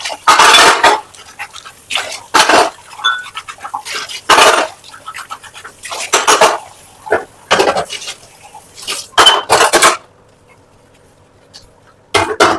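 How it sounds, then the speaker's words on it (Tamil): Steel wire scrubber and idli plates being washed, with a series of sharp metallic scraping and clattering bursts, some rapid and some spaced out, and splashes of water between them, followed by a short quiet stretch near the end. "இந்த மாதிரி ஒரு கம்பி நாடு இல்லைன்னா ரொம்ப கஷ்டம் இல்லாம வச்சு கழுவுங்க"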